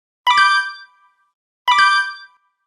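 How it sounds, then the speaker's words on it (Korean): A doorbell rings twice, each a bright ding-dong chime that decays over about a second, separated by silence and with no voices. "다시 초인종을 눌렀습니다."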